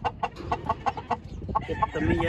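Farmyard rooster and fowl calls come in a quick run of sharp, regular bursts, and someone speaks Spanish briefly near the end as the calls carry on beneath him.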